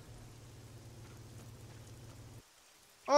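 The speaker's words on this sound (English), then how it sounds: "Too much rain." Steady rain falling in the video game Arma 3, a continuous low patter for about two and a half seconds before cutting out, followed by a brief louder burst at the end.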